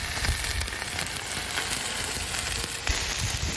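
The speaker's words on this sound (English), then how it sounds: "We're gonna be cooking on our Blackstone grill today on medium-high heat" A cobia fillet in olive oil sears on a Blackstone griddle over medium-high heat, giving a loud, steady crackling sizzle with irregular pops and spits, close up and continuous throughout.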